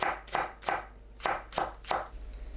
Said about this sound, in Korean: 파를 썰어 줍니다